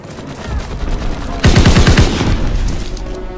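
Strafing run from a World War II fighter aircraft in Call of Duty WW2 multiplayer: a loud, rapid burst of about eight machine-gun rounds hammering down over steady battle noise, then the noise carrying on after the burst.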